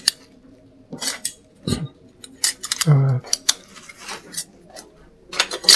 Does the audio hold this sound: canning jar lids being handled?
yes